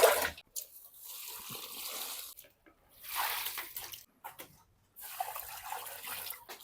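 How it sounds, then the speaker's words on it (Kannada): Water from a drum is poured onto plants in bursts, each a close rushing splash lasting a second or two, separated by short silent gaps. "ಎಲ್ಲ ಗಿಡಗಳಿಗೆ ನೀರು ಹಾಕೈತ್ರಿ"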